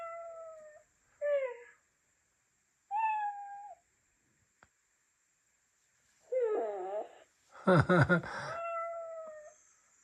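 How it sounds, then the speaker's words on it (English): Several short electronic-sounding meows from a Chongker robot cat toy triggered by touch sensors, spaced apart with pauses, the last ones louder and longer, with no one talking. "Touching the sensors on Percy's neck and head and tail, there will be different cat meows."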